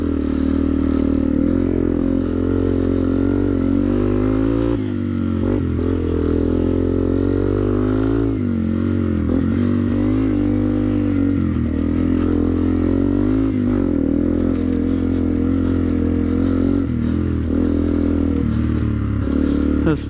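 A 2009 Yamaha TW200 dirt bike ridden through mud, its engine droning loud and close the whole time with rising and falling throttle, rattles and splashy scrapes, and a voice talking over it at times.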